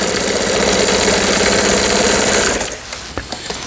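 A Brother Boutique 15 sewing machine runs loud and steady as it stitches a half-moon decorative pattern, a continuous mechanical whir that stops after about two and a half seconds, followed by a few faint clicks.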